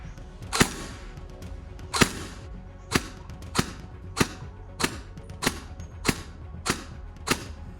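An ARP9 gel blaster fires single sharp cracks at a steady, fairly even pace, about one to two per second, close and crisp against a quiet background.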